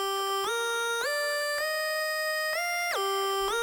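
Dry synth lead in FL Studio with no hyperchorus, playing a clean bright tonal melody of several stepped notes with sharp attacks and rich harmonics, alone and clear.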